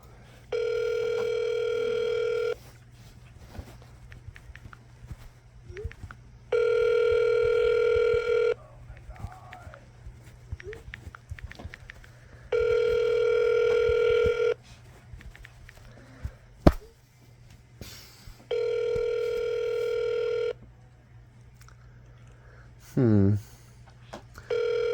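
Ringback tone on a telephone call waiting for someone to answer: four long, loud, even tone bursts repeat at regular intervals, with muffled background noise and brief sounds filling the gaps between them.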